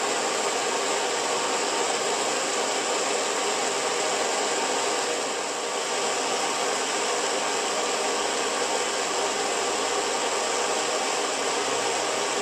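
A gas torch flame heating a steel tube for bending in a home garage, a loud, steady, unbroken roaring hiss with no talk over it.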